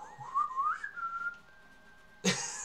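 A person whistles in place of a train horn, producing a single rising and wavering tone that settles into a long steady note before fading, followed by a short noisy burst at the end.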